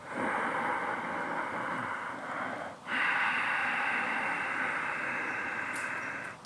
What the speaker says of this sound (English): Ujjayi breath is a sound made in the throat, making the sound of the sea in the throat